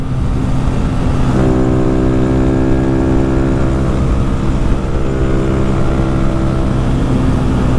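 A modified Honda Fan 160 motorcycle engine rumbles loud and close, climbing in pitch as it revs up after a short idle, then holding a strong steady drone.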